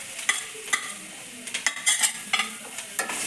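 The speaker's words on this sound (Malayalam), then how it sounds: "വെളിച്ചെണ്ണ ഒഴിച്ചു, വെളുത്തുള്ളി ഇട്ട് കൊടുത്തു. ഇനി നമുക്ക് സവാള ഇട്ട് കൊടുക്കാം." Onion and garlic fry in coconut oil in a pan, a soft sizzle under repeated scraping stirs with a spoon, close and moderately loud with an uneven rhythm.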